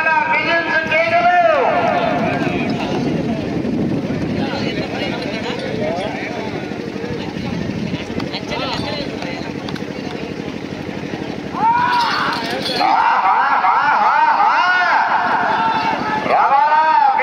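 Whistles and loud shouting from a crowd of farmers at a prize event in Naruva village, with a steady roar of cheering and piercing, rising whistles that grow sharper toward the end.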